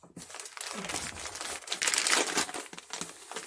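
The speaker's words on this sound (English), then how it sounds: "it is vacuum compressed in one of these plastic bags" Plastic bag holding a vacuum-compressed sleeping bag being opened and handled, a close, continuous crinkling and rustling of thin plastic with irregular louder crackles and no speech.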